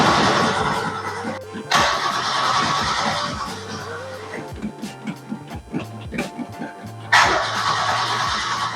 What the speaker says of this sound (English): Let's turn it over and see if we can get anything up there.